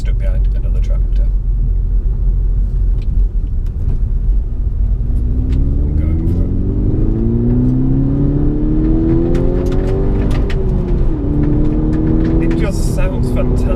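The engine of a four-cylinder hot hatch hums under a steady in-cabin road rumble, then its note climbs as the car accelerates through the gears, loud and close from inside the car.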